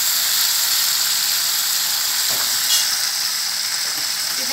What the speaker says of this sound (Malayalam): നമ്മൾ എണ്ണ ചൂടായിട്ടുണ്ട്, അപ്പോൾ അതിലോട്ടിട്ട് നമുക്ക് മൂപ്പിച്ചെടുക്കണം